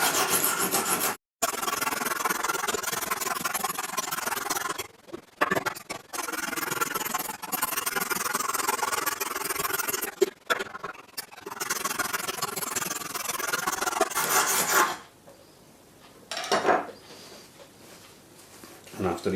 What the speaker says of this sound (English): With each finer stone I'm using, I'll use slightly less pressure than the one before.